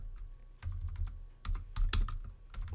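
Typing on a computer keyboard, a close run of quick uneven key clicks in small clusters with brief pauses, alone and fairly quiet.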